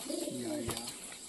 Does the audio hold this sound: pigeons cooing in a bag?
yes